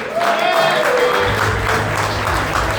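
An audience applauds to welcome John Laughlin at a League of Rhode Island anniversary event. Steady, loud clapping fills the room, with a faint tone and low hum running underneath.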